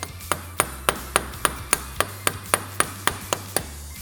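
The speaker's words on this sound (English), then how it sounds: "give it a couple taps to kind of free it up" A socket taps against a Can-Am Commander axle stuck in the portal, about a dozen sharp metallic knocks at an even, steady pace, close and clear.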